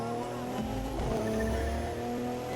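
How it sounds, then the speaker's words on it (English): A car's engine in The Crew 2 racing game holds sustained tones that shift in pitch, with a tire squeal partway through. The engine is loud and fills the whole clip, and no one speaks. "Just thinking about this car's turbo noises,"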